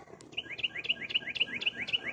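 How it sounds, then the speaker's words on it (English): A small bird chirps close overhead in a tree at a December sunrise, a steady run of quick, bright, evenly spaced two-note chirps, loud and near with no talk. "Oh, that bird's close."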